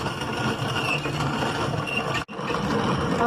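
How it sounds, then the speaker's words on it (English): A hand-powered grain mill grinds corn into coarse cornmeal with a continuous gritty, mechanical rumble that breaks off for an instant before resuming, close and fairly loud. "Now, I'm going to grind this all the way through."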